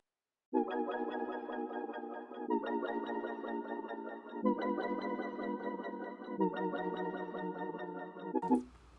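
Dark digital pluck synth chords with delay, four sustained chord stabs each ringing about two seconds with echoing repeats, clean and moderately loud, ending in a brief noisy burst.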